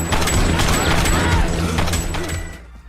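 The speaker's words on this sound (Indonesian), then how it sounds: "para geng motor langsung menembaki Grus dan Bobby yang asli" Rapid bursts of gunfire crackle in a dense volley with heavy booms underneath, loud and chaotic, fading slightly toward the end.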